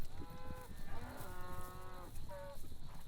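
A small breeder's herd of cattle on a farm in Argentina moos in several overlapping, drawn-out calls, close and fairly loud, over rustling background noise.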